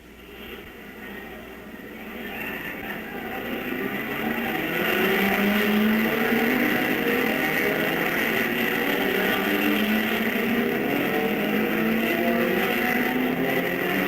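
Race cars roar off together at the start of a 12-hour endurance Grand Prix, the engine noise swelling over the first few seconds into a sustained, distant-sounding wall of revving motors.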